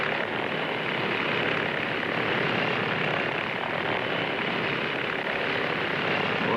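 A loud, steady aircraft engine roar with a broadband propeller-like drone, continuous and close throughout, no voices.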